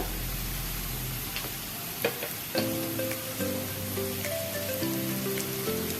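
Turmeric paste is added to lightly browned onions frying in a pan, giving a steady hissing sizzle, a sharp thud or two as the paste goes in, then continued sizzling with gentle stirring under soft background music.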